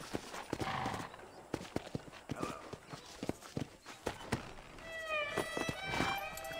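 Horse hooves clop irregularly at a walking pace, close by, then a horse whinnies near the end, in the video game Red Dead Redemption.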